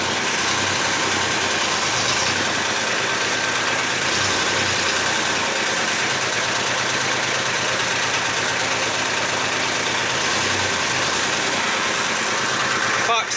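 An old Kubota tractor engine, fitted with a new gearbox, idles and runs continuously with a rough, knocking mid-pitched rumble at a steady, fairly loud level, with faint voices in the background.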